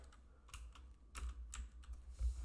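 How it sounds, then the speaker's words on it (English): Quiet, close typing on a computer keyboard, scattered key clicks in an uneven rhythm over a low hum, with no voices. "you don't have to watch me type"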